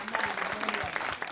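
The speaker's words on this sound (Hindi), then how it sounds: "चलिए तालियों के साथ अभिनंदन कीजिए।" Audience applause at a wellness conclave in India, a short burst of clapping with a voice speaking over it at moments.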